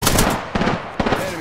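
Gunfire in the battle royale game Apex Legends, a rapid burst of close shots followed by two sharper repeated volleys, loud and dense with no talk over it.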